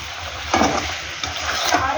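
Chicken stirred in a pan, with scraping strokes and soft sizzling. Two or three distinct stirring passes stand out over a low background.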